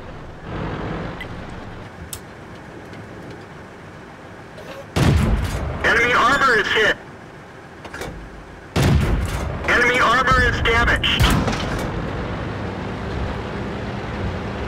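Tank guns firing in World of Tanks, heavy booming shots in two loud clusters with rumbling aftermath, over a quieter engine hum and a player talking.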